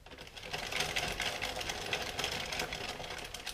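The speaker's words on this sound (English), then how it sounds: "And then I'm going to crank the handle and knit 36 rows until I get to the point where I'm going to bind off." Handle of an Addi Express Kingsize knitting machine cranked to knit rows, giving a steady, dense mechanical whirring clatter with fast rhythmic clicking, close and continuous throughout.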